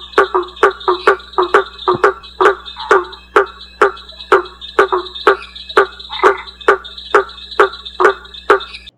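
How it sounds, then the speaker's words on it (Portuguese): Calls of the hammer frog (Boana faber), a large tree frog, ring out as about two dozen loud, close, sharp knocks at a steady pace, each like a hammer striking an anvil, over a faint background hum. "Outro canto interessante é o do sapo-martelo."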